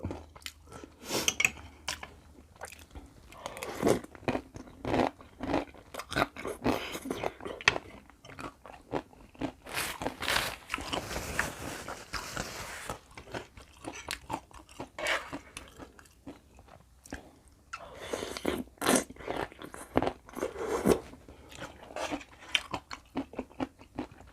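Someone bites and chews crispy fried rice vermicelli noodles in a dish served in gravy, with loud close crunches in irregular bursts and softer mouth chewing between them, over a long stretch with no talking.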